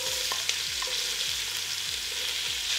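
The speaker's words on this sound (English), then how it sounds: "So we'll let them saute for a few minutes until they're just like softened." Vegetables sautéing in a pan after beef short ribs were seared in it: a steady close frying hiss with a few faint stirring scrapes and no voices.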